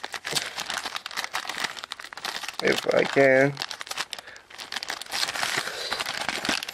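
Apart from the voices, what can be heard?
plastic package being torn open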